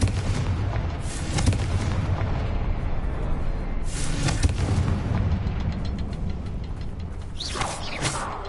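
Confringo blasting spell in Hogwarts Legacy gameplay: a steady roar of booming, artillery-like blasts fills the scene, with sharper bursts around four and seven seconds, loud and continuous with no talking.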